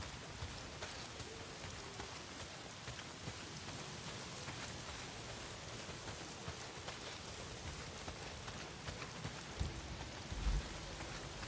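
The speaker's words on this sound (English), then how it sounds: "not if it's pissing down rain" Heavy rain pours steadily in the post-apocalyptic video game Days Gone, a dense continuous hiss of downpour spread across the whole scene with no voices over it.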